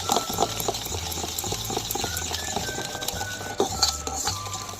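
Cake batter being stirred in a bowl as ingredients go in one at a time, including sugar, with steady scraping and clinking of a utensil against the bowl and some liquid sloshing, close and continuous with no talk.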